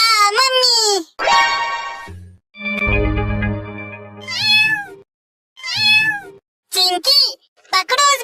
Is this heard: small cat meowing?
yes